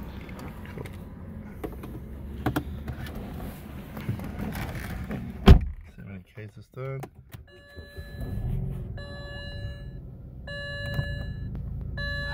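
A 2006 BMW 320i with 106,000 km cranks briefly and catches, then settles into a steady low idle heard from inside the car, with repeated electronic chimes beeping over the engine.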